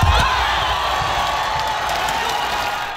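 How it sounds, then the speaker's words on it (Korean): A large crowd roars and cheers continuously in a big indoor hall at a table tennis match, with scattered whoops and shouts, loud and sustained throughout. "관중석에서는 탄성이 쏟아졌습니다."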